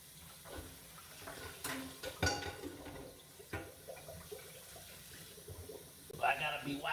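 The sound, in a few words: washing dishes at the sink with running water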